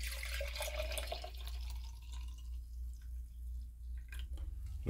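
Juice splashing and trickling steadily into a jug, a wet pouring sound with a few drips toward the end.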